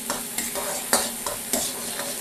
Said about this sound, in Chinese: 料头下锅，咱们要多炒一会儿，把料头充分的炒香